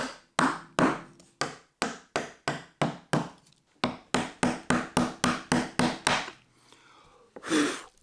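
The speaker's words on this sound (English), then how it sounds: "I can go back over it with a chisel and bring it all the way to the line" A chisel is struck in a string of sharp, close, evenly spaced knocks while cutting wood for Japanese joinery, with a short pause partway through and a softer scrape before one final blow.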